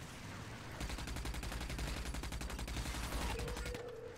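The player's gun in the game Rage fires a rapid automatic burst, a dense run of evenly spaced shots lasting about three seconds, close and loud, alone without talk.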